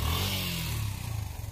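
A motorcycle engine revs at a steady mid pitch, close and loud, with a light clatter as the bike is pushed across a broken bridge by several people; no speech.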